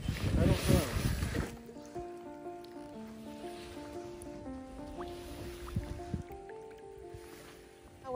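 A kayak on an inlet of a lake at Mississinewa State Park, Indiana, with a splashy paddle stroke and dripping at the start, then quiet water sounds under soft background tones.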